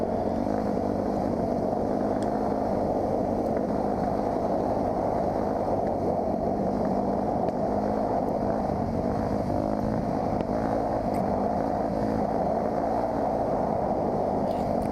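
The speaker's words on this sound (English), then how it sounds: "So I was just popping little tiny wheelies and playing around with the bike." Dirt bike engine at a state park riding area, droning loud and steady throughout with a constant rough mechanical tone and slight rises in pitch, heavy wind rumble underneath.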